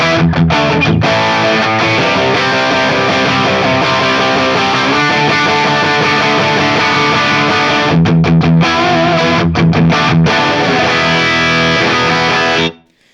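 A PRS electric guitar with a Seymour Duncan JB bridge pickup runs through a Fractal AX8 Plexi 2204 amp model and a Marshall cab with Greenbacks impulse, playing loud, continuous distorted rock chords and riffs that cut off abruptly at the end.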